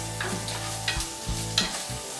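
Sugar snap peas stirred in a pan of butter and oil, giving a steady close sizzle broken by a few soft scraping stirs, with no talk.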